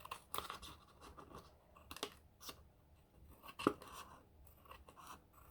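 Scissors trim paper for a gingerbread house template, faint close snips and crinkling scrapes scattered irregularly with one sharper cut.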